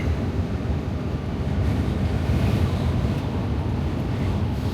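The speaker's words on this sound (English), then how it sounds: "God, it's windy as hell." Strong wind buffeting at a truck stop, a steady broadband roar with gusty microphone rumble, continuous and loud with no talk.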